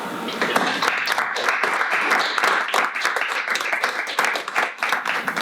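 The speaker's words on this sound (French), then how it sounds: "Alors, chers collègues, applaudissons-les en guise de remerciement." Applause fills a council chamber during a departmental plenary session, a steady dense patter of many hands clapping together for several seconds at a fairly close, even level.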